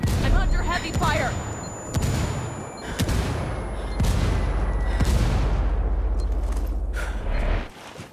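Heavy gunfire in the video game Ghost Recon Wildlands: dense, loud bursts of shots and booming impacts crowd together almost continuously, with sharp cracks punching through a rumbling roar.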